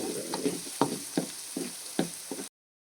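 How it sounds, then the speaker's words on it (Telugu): Onions frying slowly toward golden brown in a pan, a soft continuous sizzle broken by a regular series of stirring scrapes and knocks, about six in quick succession before it cuts off. "సో ఆనియన్ స్లోగా బ్రౌన్ కలర్లోకి టర్న్ అవుతున్నాయి."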